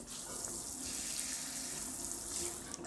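A clean kitchen sink faucet in a modern farmhouse in Chavakali runs steadily, a continuous close splashing stream of water with no voices.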